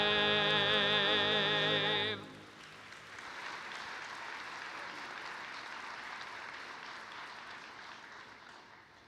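After the national anthem, an audience applauds a university symphonic band at a presidential inauguration ceremony. A sustained musical chord rings out briefly and cuts off, and then broad, steady clapping continues to the end.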